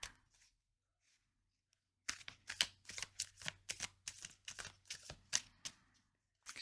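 Playing cards are shuffled and pulled close up in a quiet room: a faint rustle, a pause, then a rapid run of crisp riffling snaps and flicks, with no voices.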